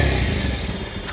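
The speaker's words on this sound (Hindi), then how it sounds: "तो ये है पल्सर की आवाज़।" A Bajaj Pulsar 125 motorcycle idles close by with a steady, smooth 125 cc engine hum that holds even throughout, alone with no talk.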